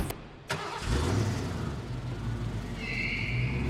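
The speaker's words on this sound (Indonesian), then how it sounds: "Terdengar suara mobil, Mimin pun sontak terbangun" A car engine rumbles steadily in a film scene after a brief click and a short burst at the start, holding a continuous low hum with a faint higher whine toward the end, with no talking.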